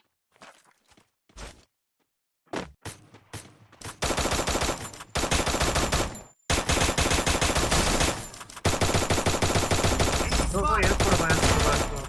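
Bursts of rapid gunfire, loud and close, with sporadic single shots at first, then sustained automatic fire with brief pauses, from a squad-mode battle royale game, including an XM8 rifle.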